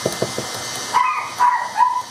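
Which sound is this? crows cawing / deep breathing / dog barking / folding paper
dog barking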